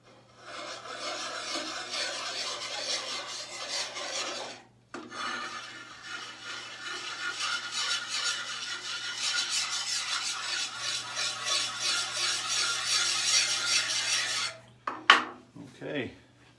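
A drawknife blade sharpened by hand with a light touch, giving steady close rasping strokes that run continuously with one brief pause, ending in a few scattered clinks and handling sounds.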